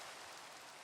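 Rain falls in the Minecraft video game, a faint, steady hiss with no break and no talking.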